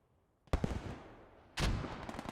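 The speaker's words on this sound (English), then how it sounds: "Mortars landing from both sides." Two heavy mortar shells slam down in Post Scriptum, a World War II shooter, each a sharp broadband boom about a second apart with a long rumbling tail, loud and close with no talk over them.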